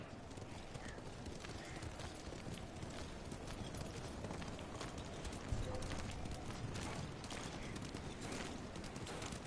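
Horse hooves clip-clop continuously across the ground in the video game Ghost of Tsushima, in a steady rapid rhythm with a faint, dense background bed and occasional voice underneath.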